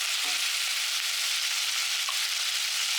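Meat for a Flemish carbonade frying on a hotplate, a steady dense hiss of sizzling fat that runs close and continuous for the whole stretch, with no talk.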